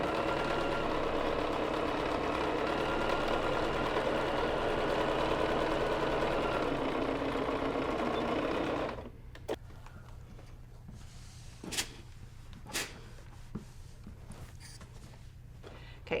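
Domestic sewing machine stitching a seam on a fabric basket, a steady loud motor whir for about nine seconds that then stops, leaving quiet room tone with a few faint clicks and handling taps.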